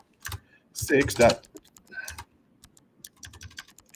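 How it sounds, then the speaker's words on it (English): Keys on a computer keyboard clatter in quick irregular bursts of clicks, close and moderately quiet, with brief gaps between runs of typing. "I'm typing in a whole bunch of stuff."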